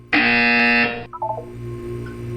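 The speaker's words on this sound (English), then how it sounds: "You will hear a buzzer." A loud, harsh electronic buzzer in a Portal test chamber sounds for about a second alone, then cuts off into a few short fading tonal blips over a steady background hum.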